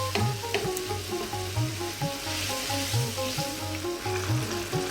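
Tomato curry base for an Indian fish curry sizzles steadily in a pan as it cooks down, a continuous crackling fry broken by occasional soft stirring scrapes and a low recurring hum, with no voices.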